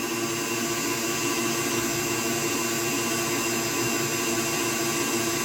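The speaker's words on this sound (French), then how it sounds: "il faut pas s'arrêter de laisser le batteur battre les œufs" An electric mixer beats eggs for a coconut marble cake, giving a steady, close, continuous whirring drone at constant pitch with no pauses.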